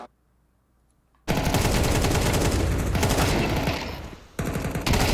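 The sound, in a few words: Desert Eagle gunshot in Counter-Strike video game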